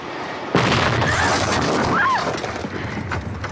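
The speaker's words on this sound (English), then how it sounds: "A torpedo attack!" A torpedo attack sets off a sudden heavy explosion that bursts in and leaves a long, loud rumbling roar.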